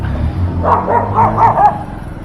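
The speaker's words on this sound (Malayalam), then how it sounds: "പട്ടികളുടെ മേളം കണ്ടില്ലേ" A dog barks about five times in a quick, loud series nearby, then goes quiet.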